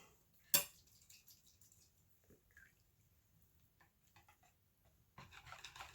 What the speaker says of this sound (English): Get my whisk out here, and we'll get that all mixed up.